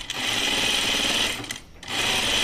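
A sewing machine stitches a Colette Myrna dress in a rapid, close, steady whir that briefly dips before resuming, with no voices.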